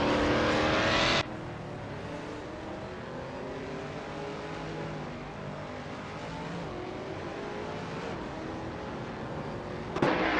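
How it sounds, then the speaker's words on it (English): Race car engine of a 2007 Ascari KZ-1R in a racing video game, a steady sustained drone with a louder burst at the start and a brief spike near the end. "piloting a 2007 Ascari KZ-1R, a sleek and powerful machine"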